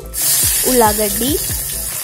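Cumin, mustard seeds and curry leaves sizzle steadily in hot oil in a pan, a bright continuous crackling hiss that stays close and fairly loud throughout, with a brief voice-like tone rising over it midway.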